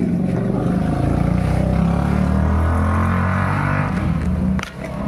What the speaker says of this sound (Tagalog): Nako, maingay yung motor.